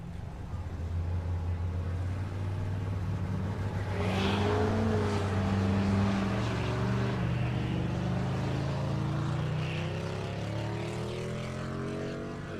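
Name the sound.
drag racing vehicles, G-body and Silverado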